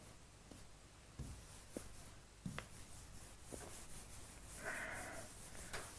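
Rubbing and wiping strokes across a board to erase written working during a maths lesson, close scratchy bursts at irregular intervals with a faint background hiss and no talking.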